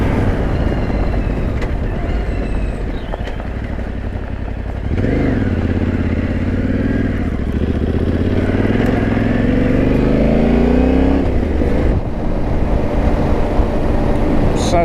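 A Yamaha Ténéré T7 adventure motorcycle on a trail ride drones loudly and continuously, with the engine note rising and falling through gear changes and revs, up close with rushing wind.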